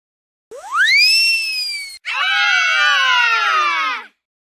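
Peacock giving two loud, drawn-out wailing calls back to back, the first sliding upward and the second a harsher, wavering cry, both sustained and close with nothing else heard.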